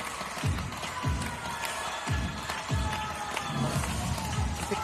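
At an acrobatic artistic swimming World Cup event in Montpellier, a large crowd cheers and roars continuously, with rhythmic low thumps recurring about every second beneath the broad wash of sound.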